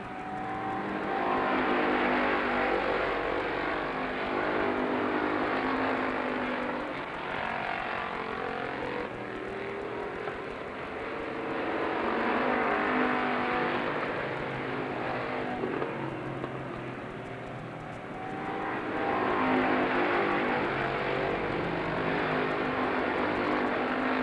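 Race cars lap Lorain County Speedway in Ohio, a loud continuous engine roar that swells and fades in waves as the pack passes, with no talk over it.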